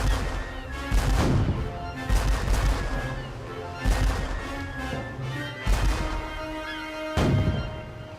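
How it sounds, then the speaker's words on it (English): Ships' cannons fire in a sea battle, heavy booming blasts repeating roughly every second or two, loud and reverberant, layered over a continuous dramatic background. "Hornigold's 3 ships attack the French ship with their guns."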